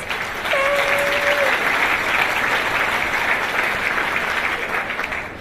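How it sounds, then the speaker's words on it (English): An audience of about a thousand gives a steady round of applause for a volunteer coming on stage, loud and continuous, with a brief whoop near the start. "Give her a round of applause, please."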